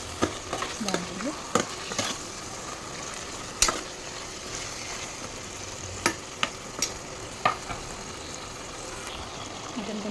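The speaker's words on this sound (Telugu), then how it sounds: "ఒక 1-2 మినిట్స్ ఈ ఆయిల్లో మగ్గితే బాగుంటుంది" Pieces of mutton fry in hot oil in a pan for a homemade curry, a continuous sizzle broken by several sharp clinks and scrapes of a spoon stirring the meat.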